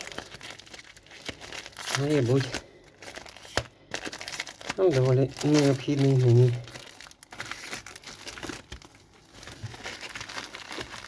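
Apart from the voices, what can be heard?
plastic parcel bag crinkling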